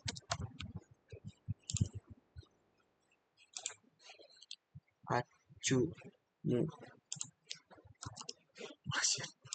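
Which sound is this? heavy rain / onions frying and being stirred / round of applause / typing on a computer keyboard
typing on a computer keyboard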